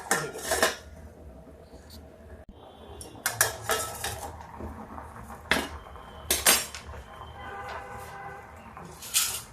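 A metal lid is set onto a pot of raw mango launji, bringing several close clanks and rattles of metal against the rim, with scraping between and short bursts of clatter near the end, no voices.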